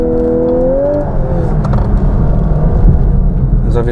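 A Lexus LC 500h hybrid coupe accelerates on the road, heard from inside as a loud, steady engine whir and road rumble, with a rising tone at the start.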